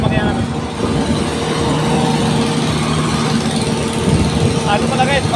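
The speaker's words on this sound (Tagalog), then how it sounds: "Sa engine ng makina namin." The engine of an island-hopping boat bound for Sidanao Island runs with a loud, steady droning rumble heard up close throughout, never changing pace.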